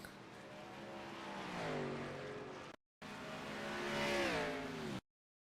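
NASCAR race cars roar around the Daytona track, engines revving and sweeping in pitch as they pass close by in two bursts with a short gap between them.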